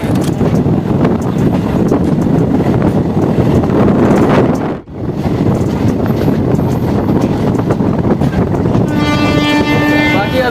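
Inside the general coach of the Haridwar–Rishikesh passenger train, a loud continuous rumble and rattle of wheels on track with wind buffeting, briefly dipping mid-way, then a sustained horn-like tone rising toward the end.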